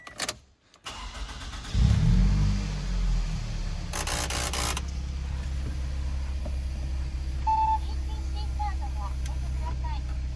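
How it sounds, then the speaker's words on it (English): A 2005 Toyota Voxy 2.0 engine cranks and catches, then settles into a steady low idle rumble, with a brief electronic chime partway through. "Okay, let's start the car."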